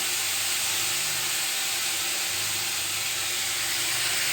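A splash of water poured into a hot pan of banana stem curry, producing a loud continuous steamy hiss that stays steady and close throughout.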